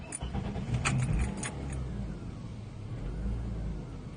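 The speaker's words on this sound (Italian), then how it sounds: "Come potete notare l'auto parte senza problemi, il minimo è perfettamente regolare" Keys jangle briefly, then a car engine turns over and settles into a steady, even low idle. The car had been checked for misfires from a faulty ignition coil, and the rumble stays smooth and moderately close with no voices.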